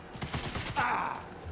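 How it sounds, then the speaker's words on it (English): Rapid submachine-gun fire in the video game Sniper Elite 5, a fast burst of close, loud shots for about a second, followed by a brighter impact or hit sound. "Non-lethal SMG."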